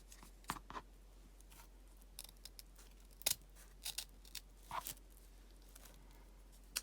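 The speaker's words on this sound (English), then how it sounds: "I'm going to cut about 1/3 of the way into the ribbon on both sides." Scissors snip through ribbon in quiet, sharp, close cuts scattered across a few seconds, some in quick pairs, with no talking.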